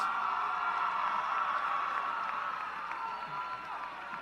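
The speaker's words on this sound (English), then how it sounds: "Let's have them a round of applause" Graduation ceremony crowd for the top ten graduates of a 2018 high school class, a steady wash of applause filling a large hall, moderately loud and even, slowly thinning toward the end.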